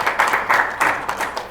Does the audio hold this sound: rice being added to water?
no